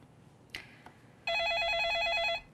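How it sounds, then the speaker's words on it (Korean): A telephone rings through a call connection during a live stock-advice broadcast, preceded by a couple of soft clicks, then a loud, steady warbling electronic ring that lasts about a second before cutting off. "가장 먼저 전화부터 연결해 볼게요."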